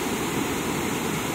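River water of the Rio Salgado rushing beneath a bridge, a dense, even roar of flowing current that holds steady throughout with no voices.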